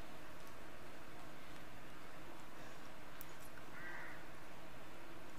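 Crows caw in a Resident Evil 8 village scene, faint and distant over a steady hiss of wind-like ambience, with a few scattered calls.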